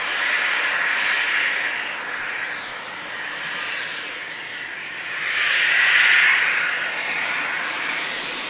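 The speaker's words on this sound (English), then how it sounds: "Another aircraft in from Norfolk." Aircraft arriving at Manchester Airport, a sustained engine roar that swells, eases, then swells louder again near the end as it passes, with no talk.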